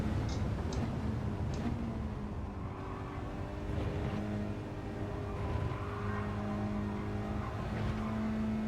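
Race car engine in Gran Turismo 7, a sustained high-revving drone with shifting pitch as the car is pushed hard, with occasional tire squeal and ticks, loud and continuous, no talk over it.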